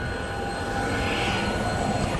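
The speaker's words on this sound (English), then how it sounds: "So this is our float plane." A float plane's aircraft engine drones at a steady, loud, close level before a flight on the Amazon River in Brazil, with no talk over it.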